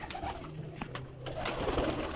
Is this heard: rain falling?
no